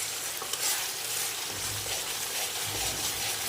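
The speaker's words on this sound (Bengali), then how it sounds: "তার মানে মশলাটা ভাজা হয়ে যাচ্ছে" Spice paste for an egg and cauliflower curry fries in hot oil, giving a steady, close sizzle with occasional stirring scrapes and no talk.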